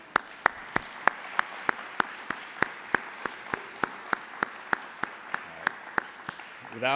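Slow, evenly spaced claps at a public health and fracking conference, about three per second, sharp and distinct over a quiet room, ending in a brief murmur.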